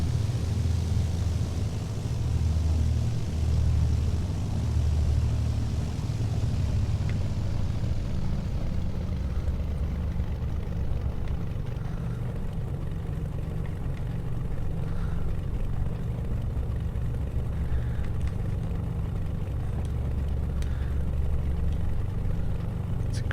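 Simulated Beechcraft A36 Bonanza single propeller engine in X-Plane 10, a steady loud low drone that runs throughout with little change, heard alone without talk.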